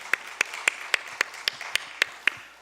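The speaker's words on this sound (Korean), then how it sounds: "clap a blessing of clapping for women" A church congregation at an Easter service claps in a steady rhythm, nine evenly spaced sharp claps close by with no talking.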